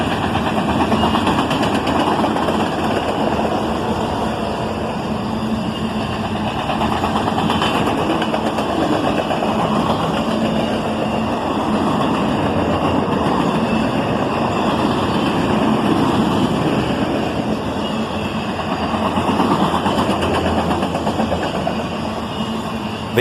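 A CSX southbound autorack freight train led by an ET44AH and an ES40DC locomotive rumbles past on the Toledo sub, a loud, steady engine drone with low vibration lasting throughout.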